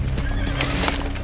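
A horse neighs loudly and close at hand during the filming of a Joan of Arc period film, its whinny running over clip-clop hooves and a low background hum. No voices are heard.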